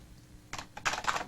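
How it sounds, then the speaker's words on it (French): Keys clatter on a computer keyboard, a few quick taps followed by a denser burst of typing, close and fairly quiet with no voices. "Non, Monsieur Dunn, vous devez l'écrire sur le clavier"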